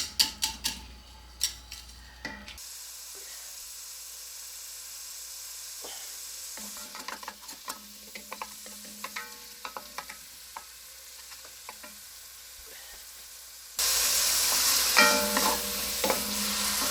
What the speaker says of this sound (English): So we can saute our vegetables, the carrots, onions, and celery.